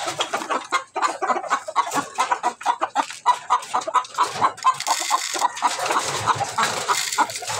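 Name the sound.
hen clucking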